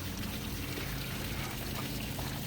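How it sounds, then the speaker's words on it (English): A steady stream of water gushes from the cooling pump outlet of a running Johnson 115 HP two-stroke outboard on a boat, a constant close splashing pour without pause. "You can see her peeing out water."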